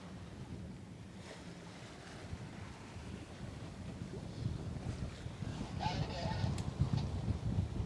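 A sailboat under both sails on the open Atlantic, with steady wind buffeting the microphone and waves washing against the hull, rising louder toward the end.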